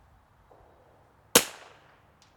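A single sharp .22LR rifle shot cracks out of near quiet, with a short decaying tail after it and faint outdoor background before and after.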